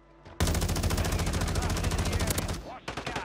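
Rapid automatic gunfire from the Razorback gun in a video game, a dense, sustained burst of evenly spaced shots lasting over two seconds, then a brief pause before another burst begins.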